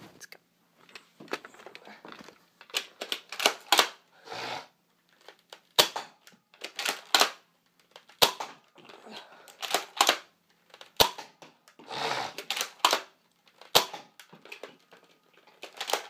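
A Nerf Mega Cyclone Shock blaster fires again and again, each sharp snapping pop followed by mechanical clicks as it is primed. Shots come in uneven bursts with short gaps of quiet between them.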